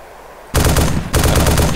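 A tank turret cannon in DayZ Epoch fires twice in quick succession, each loud burst rattling out with a rapid crackle after near silence, close and alone.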